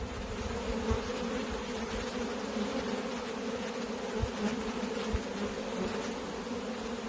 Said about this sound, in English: That would add a significant number of bees.